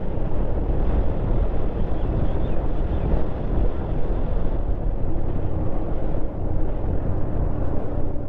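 Steady, loud wind roar buffets the microphone on a motorbike climbing a mountain road, a dense continuous rush with engine rumble underneath and no pauses throughout.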